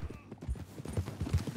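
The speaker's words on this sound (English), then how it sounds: "He is on a horse." Horse hooves clip-clop in the Red Dead Redemption 2 video game, a quick rhythmic run of thuds with people talking over them.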